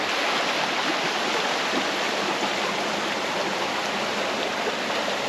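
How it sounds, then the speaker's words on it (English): A stream flows steadily at a Lake District campsite near Windermere during a storm, giving a loud, continuous broadband rush of water with no pauses and no voices. "Look at the stream."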